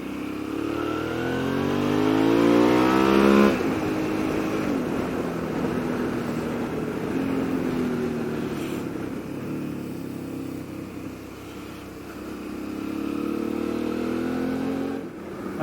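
A Suzuki V-Strom 650 motorcycle engine drones steadily while the rider leans through a bend, its pitch climbing under acceleration and then settling under wind noise, with no one speaking.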